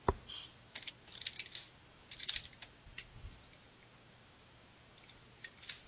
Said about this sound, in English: Because now all that they hear is you typing